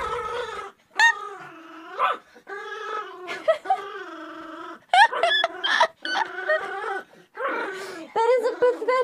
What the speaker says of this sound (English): He's barking at Wesker.